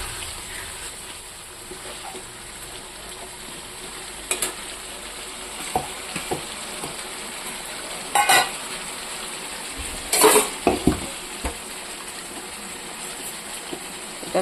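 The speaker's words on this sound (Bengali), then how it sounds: "এটা এখন একটু ভাজা ভাজা করে নেব।" Potatoes and jackfruit seeds frying with spices in a pan, a soft continuous sizzle with several louder bursts of stirring and scraping against the pan.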